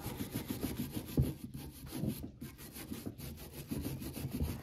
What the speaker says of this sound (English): If you have like a wire brush, clean it up.